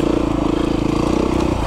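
A Yamaha YZ 65 or Beta 390 RR dirt bike engine runs loud and steady at close range, holding a rapid, even throb that eases slightly near the end, with no talk over it.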